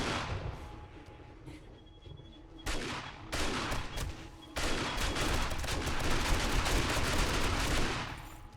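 Turrets fire bullets in the video game 7 Days To Die, Darkness Falls mod, in rapid automatic bursts that thicken into sustained, loud, dense volleys after a quieter, scattered start.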